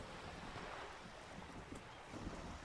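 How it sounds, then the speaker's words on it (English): Wind gusting and a sail flapping aboard a boat in the video game Disco Elysium, a steady windy rush with faint flutter, mid-level and continuous. "The wind flaps the sail above her."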